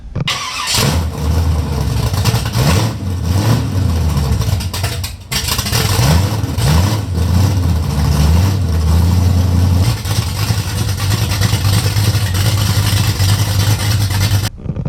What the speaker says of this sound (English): this killer small block Chevy, just as nice, man